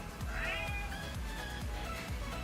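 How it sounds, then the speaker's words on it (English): A cat meows in a drawn-out, rising and falling cry, close and clear over a steady low background hum with soft rhythmic thumps. "Meow."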